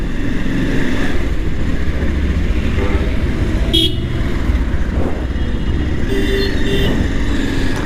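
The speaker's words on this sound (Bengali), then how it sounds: "বাইক নিয়ে যাচ্ছি এখন।" Riding a motorcycle along a busy road, with steady engine and traffic rumble, passing vehicles and a few short horn toots nearby.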